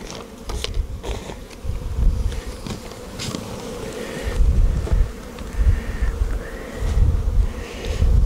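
Honeybees buzz busily around a hive, a dense swarming hum punctuated by occasional knocks and clatters close by, rising and falling in loudness.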